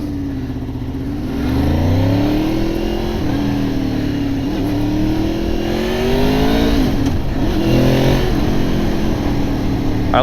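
A 2002 Honda VFR800 motorcycle with an 800cc engine revs and pulls away on a ride, its loud tone climbing and dropping through several gear changes, close and continuous.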